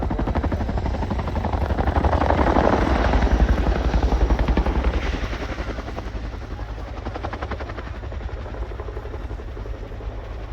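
Loud, close rotor beat of an RAF Chinook helicopter coming in to land at the RIAT air display, a heavy rhythmic thudding that swells and then eases slightly while the drone continues.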